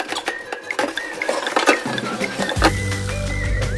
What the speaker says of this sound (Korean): 3개 다 설거지를 해야 한다는 점 뜨거운 물로 한번 이렇게 헹궈주고